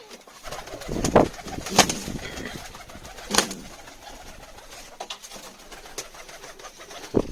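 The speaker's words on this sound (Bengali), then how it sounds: "চলুন গাইস আপনাদেরকে দেখাই সিরাজি পায়রা বাচ্চা কেমন ফুটেছে" Siraji pigeons with newly hatched chicks coo nearby, several soft rolling coos at intervals, with occasional shuffles and light thumps between calls.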